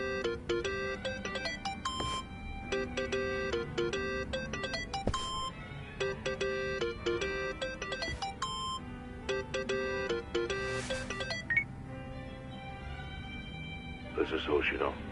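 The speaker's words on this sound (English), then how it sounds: "Think that's your phone, man." A phone ringtone plays a repeating melodic tune in steady bursts through most of the stretch, fairly close and prominent, with faint background sound underneath.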